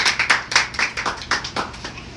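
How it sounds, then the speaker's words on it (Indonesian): Guests clap at a wedding day celebration: a small group of close, crisp, fairly loud hand claps in a loose, uneven rhythm, several per second, with no talking over them. "Oh, tepuk tangan."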